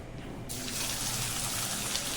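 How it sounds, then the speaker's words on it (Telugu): Cooking oil pours into a pan for drumstick egg curry, a steady continuous liquid hiss that starts after a brief quieter moment and runs to the end, close and fairly loud with no talking. "ఇప్పుడు మనం ఆయిల్ అయితే పోసుకుందాం."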